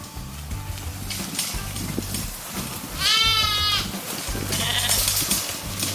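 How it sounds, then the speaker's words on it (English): Katahdin hair sheep on a farm let out a loud, close bleat in the middle of steady outdoor noise, with a fainter second bleat following a moment later. "So these are our Katahdin sheep."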